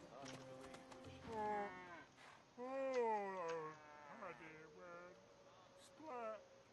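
A cow in the Divinity: Original Sin 2 video game lows in a few long, drawn-out moos that rise and fall in pitch, quiet and clear over a soft game backdrop.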